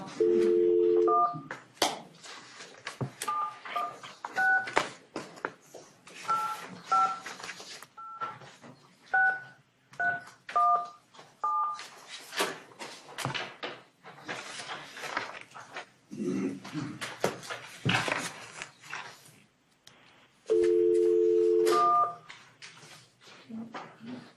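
Telephone dialing tones while placing a call at a forensic science commission meeting: a steady tone, then a series of short keypad beeps, clicks and line noise, with another steady tone near the end.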